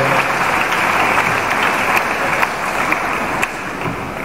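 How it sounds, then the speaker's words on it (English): A congregation at a Catholic priestly ordination gives sustained, loud, even applause throughout, with a few sharper individual claps standing out near the end. "Please let us clap for them."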